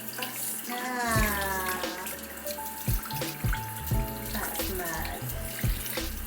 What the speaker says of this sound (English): when I run it over the tap, the water just glides straight over